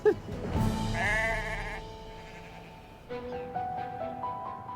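Sheep bleat under a tree in an outdoor countryside setting, with one long, wavering, close bleat followed by several shorter, fainter calls.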